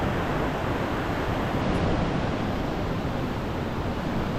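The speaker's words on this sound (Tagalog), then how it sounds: "Lakas talaga ng alon, no?" The Niagara River rapids roar in a continuous, dense rush of white water, a loud broadband wash close by with no breaks, mixed with some wind buffeting.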